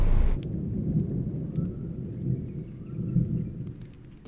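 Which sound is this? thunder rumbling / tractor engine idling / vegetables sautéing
thunder rumbling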